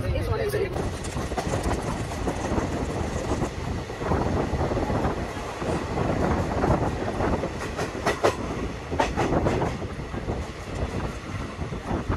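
The Ganadevta Express, a passenger train, rolls along steadily near Sheoraphuli Junction with a constant broadband rumble, rhythmic wheel clatter and metallic squeals, with faint voices underneath.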